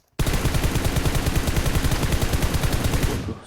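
Gunfire in a video game empties a full magazine in one unbroken, rapid automatic burst of evenly spaced, loud, close shots lasting about three seconds, then cuts off sharply.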